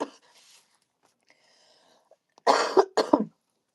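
A child coughs in a close burst of about three hard coughs, loud against an otherwise quiet room with faint murmuring beforehand.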